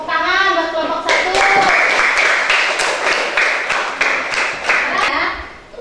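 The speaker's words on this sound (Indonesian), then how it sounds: "Tepuk tangan buat kelompok 1" Schoolchildren in an Indonesian classroom applaud a group of classmates, a burst of brisk clapping from many small hands after a teacher's spoken prompt, loud and close, fading out at the end.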